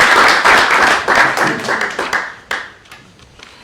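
A small audience at a Forbes town council meeting gives a short burst of applause, dense hand clapping up close that thins into scattered claps and fades out within a few seconds.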